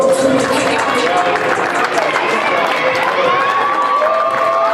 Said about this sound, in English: Clap it up, clap it up, clap it up for them.